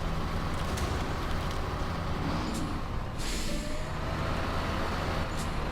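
Heavy truck engine straining and revving steadily, wheels churning while stuck in a snowy bank in Snowrunner, a loud continuous low drone with a brief dip midway and no talk.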